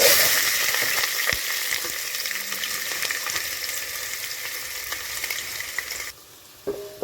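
Bay leaves, onions and green chillies fry in hot oil for mutton pulao, giving a steady loud sizzle with stirring clatter that suddenly drops away near the end, with no talking.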